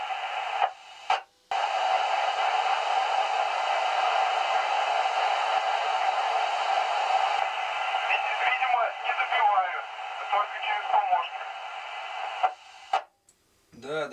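Hiss and static from an amateur radio receiver with the squelch opened, working an amateur band near an R-140 mast; steady broadband noise with faint warbling tones and brief dropouts, no clear voices.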